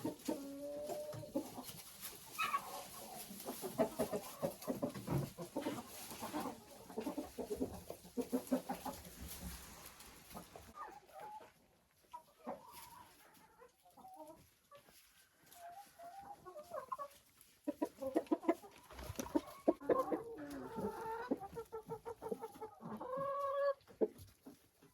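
Productive working hens cluck and murmur inside a chicken coop, many birds overlapping in a busy, continuous chorus, with louder bursts of clucking and a few sharper calls toward the end.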